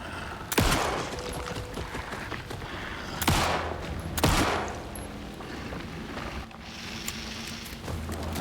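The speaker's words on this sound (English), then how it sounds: "Why is he taking so many shots now?" Gunshots in the video game Alan Wake II, a few sharp loud blasts spaced seconds apart over a tense ambient background, no talk.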